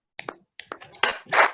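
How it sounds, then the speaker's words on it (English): Scattered applause from an online audience at an inaugural ceremony, starting as a few separate claps and thickening into a denser burst of clapping near the end. "I would like everyone to unmute and clap for him"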